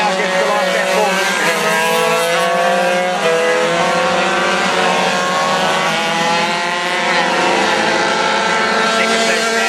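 Race cars roaring past on the last lap, a loud continuous engine howl with rising and falling pitch as several cars pass nearby, with a commentator talking over it.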